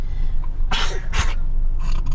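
Two short sharp bursts of breath, close to the mic, the first a loud sneeze, with a faint third puff near the end and quiet background hum.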